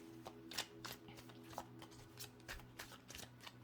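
Tarot cards are shuffled and pulled by hand in a quiet room, with a series of soft, close riffling snaps and slides coming in irregular bursts, without talking.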